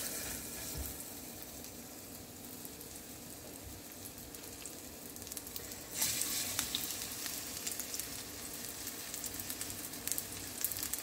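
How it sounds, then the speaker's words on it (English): Chicken pieces fry steadily in hot oil for sweet and sour chicken, a continuous dense sizzle that grows louder and brighter partway through as another piece goes in, with no talking. "I'm gonna fry the chicken first a little bit"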